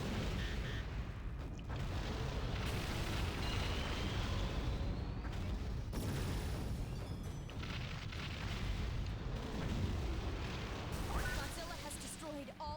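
Godzilla wrecks generators in a PS3 video game, with booming explosions and roaring destruction forming a continuous loud wall of noise.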